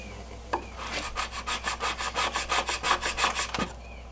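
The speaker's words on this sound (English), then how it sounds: "So I'll scrape off the rest of this finish" Steady back-and-forth scraping of old finish from a wooden roadside table, about a dozen rhythmic rasping strokes close up, with a knock at the start and end and no talking.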